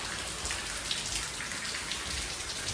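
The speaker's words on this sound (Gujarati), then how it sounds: "બહુ વરસાદ આવે છે." Heavy monsoon rain pours steadily on a village rooftop terrace, a dense, even hiss of countless drops striking hard surfaces, close and continuous with no voices.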